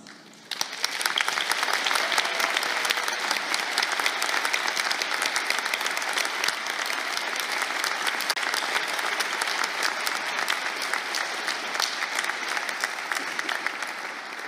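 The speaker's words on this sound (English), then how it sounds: "to accept the congratulations and applause of this gathering for their outstanding accomplishments" A large gathering at a college awards ceremony applauds Phi Beta Kappa members. The clapping starts abruptly and holds dense and steady for about fourteen seconds, with no talk over it.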